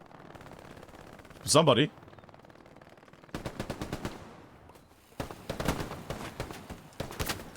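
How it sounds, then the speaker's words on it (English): Machine gun fire in Hell Let Loose during an 18-versus-18 match: rapid bursts of rattling shots, moderately close, in two sustained volleys, with a brief voice shout and talk heard earlier. "MG fire?"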